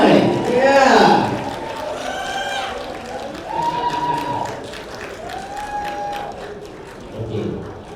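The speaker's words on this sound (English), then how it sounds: "Can we get a round of applause?" A debate audience at the Malaysian Debate Open 2015 grand final claps steadily beneath a host talking loudly over the room, with a continuous crackle of hands throughout.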